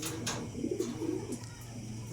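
Soft, low pigeon cooing murmurs close by over a steady background hum, with no talking.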